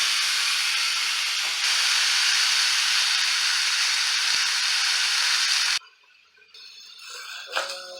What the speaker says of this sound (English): An immediate sizzle is what you want to hear.